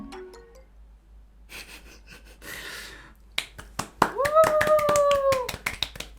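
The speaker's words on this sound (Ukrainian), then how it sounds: "Скільки разів вже плескали в долоньки?" A few people clap together in a small recording space, first a scattered patter, then a burst of sharp, close claps mixed with short vocal sounds and a quick whistle-like tone.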